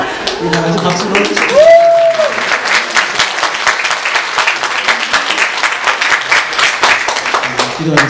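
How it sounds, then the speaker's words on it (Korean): A church congregation applauds for a member's birthday during a Sunday service, a steady burst of many hands clapping for several seconds while a voice briefly rises in a sung or drawn-out tone near the start. "우리 다 같이 박수로"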